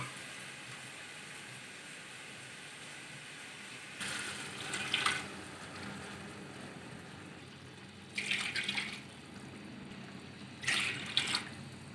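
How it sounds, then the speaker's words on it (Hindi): Chicken stock (yakhni) poured into spices in a cooking pot: three short splashing pours, each about a second long, separated by quiet gaps over faint background hiss. "अब हम यखनी डालेंगे मसाले में। पाँच गिलास डालेंगे यखनी के।"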